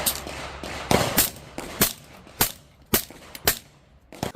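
Seven sharp gunshots from a 9mm Banshee pistol caliber carbine, fired at an irregular steady pace with short gaps between them, close and loud with no voices.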